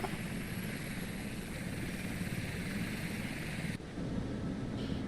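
Naval helicopters in the Sea Power naval combat game give off a dense, steady rotor and turbine roar, loud and continuous with a brief dip near the end, with no voices over it.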